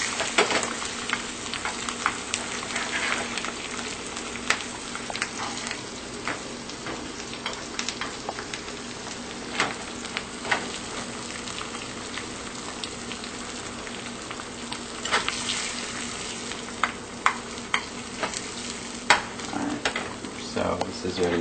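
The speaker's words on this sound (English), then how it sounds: "just let it cook a little bit" Food cooks in a pan with a steady, close crackling sizzle broken by frequent sharp pops and spatters over about twenty seconds, and a voice speaks at times over it.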